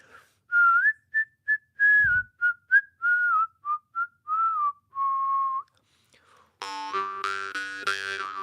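Someone whistles a short, wandering melody in clear separate notes, followed by a brief twangy buzzing tone at the end.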